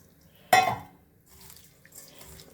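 Water poured over ragi grains in a bowl lands in one short splash-like burst, followed by faint dribbling and low movement sounds in an otherwise quiet kitchen.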